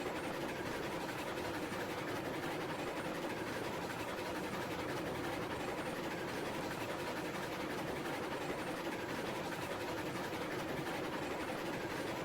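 A train running in the game Railroads Online, a continuous loud rumbling engine drone with rattling clatter, steady and unbroken for the whole stretch with no talk over it.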